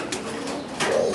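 A Tomprang high-flyer pigeon gives soft, low cooing close by, a short throaty murmur over a faint background hiss.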